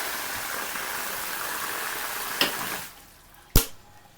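Bore well water gushes out in a loud, steady broadband rush that drops away abruptly near the end, followed by a sharp knock.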